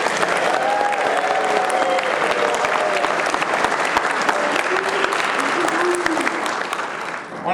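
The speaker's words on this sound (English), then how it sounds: "So let's start off with a round of applause for Bill and Judy." Sustained applause from a large audience at a 50th wedding anniversary celebration, steady and dense throughout, tapering slightly near the end.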